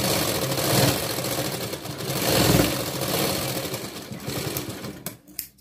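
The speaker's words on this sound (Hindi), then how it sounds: "इसको अंदर की ओर दबा कर लेना है, पास पास वाली सिलाई लेनी है।" A sewing machine stitching the lining of a princess-cut blouse runs steadily and close, a fast even mechanical whir that surges slightly before stopping near the end.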